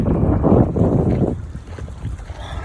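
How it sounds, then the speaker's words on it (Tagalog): Sea waves and wind on a Saudi Arabian beach, a loud rushing wash that swells and then eases into a softer steady hiss, with no talking. "sounds ng mga alon saka yung hangin"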